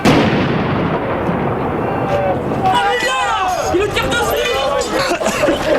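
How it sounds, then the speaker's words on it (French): Police firing tear gas grenades at striking Lorraine miners, loud booming launches and blasts amid a dense, shouting crowd, with people talking and yelling throughout. "Les forces de l'ordre tirent quand même de nombreuses grenades lacrymogènes"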